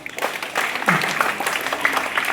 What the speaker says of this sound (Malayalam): എല്ലാവരും ഒന്ന് കയ്യടി കൊടുക്കും.